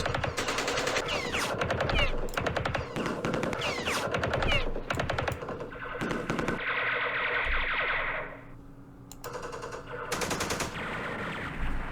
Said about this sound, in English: Oh man, these guys are getting throttled. Machine guns.